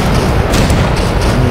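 Explosions in the video game Octogeddon sound as a dense, loud, rumbling burst of booming blasts, continuous across the moment with no talk over it.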